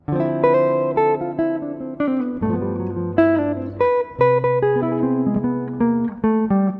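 A clean electric guitar plays a bright jazz phrase over a major chord, notes ringing together over sustained low tones, steady and fairly loud throughout.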